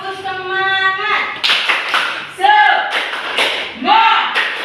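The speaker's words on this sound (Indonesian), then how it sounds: "Tepuk semangat" A school class in Medan performs the tepuk semangat clapping chant, voices chanting together, then sharp rhythmic group claps in bursts, with chanted syllables between the clap sequences.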